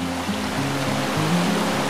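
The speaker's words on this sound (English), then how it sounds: "It's such a pretty thing walking by a running river." A river rushes down through Sundance Canyon in Banff, a continuous broadband roar of flowing water heard steadily at close range without speech.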